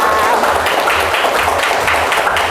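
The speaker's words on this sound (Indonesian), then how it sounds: "Tepuk tangan buat kita" Audience applause at a regional training workshop in Central Java, a dense, steady wash of many hands clapping throughout the short stretch, with faint voices underneath.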